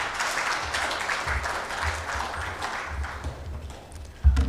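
An audience at a civil society summit applauds after a speech, a close, steady patter of many hands lasting several seconds and thinning briefly toward the end.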